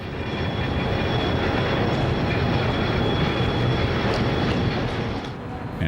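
A Rock Island passenger train backs slowly down the track near a depot by Peoria, giving a continuous, close, loud rolling rumble with faint clicking wheel noise, easing slightly at the end.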